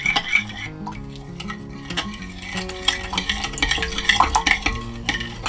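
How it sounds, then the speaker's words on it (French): Continuous clinking and scraping of a utensil against a bowl while a thick honey beef jerky marinade is stirred, busy and close with rapid small metallic taps. "il ne faut pas hésiter à remuer comme on a de la consistance avec le miel"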